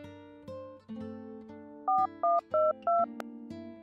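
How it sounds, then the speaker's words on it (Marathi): A phone dial tone is heard, then a quick run of four keypad beeps as a number is dialed on a mobile, followed by a steady tone again. "तसा सईने तिचा मोबाईल हातात घेतला आणि तपस्याला फोन लावला."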